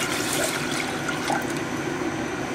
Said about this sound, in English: Let's start with 2 cups of water.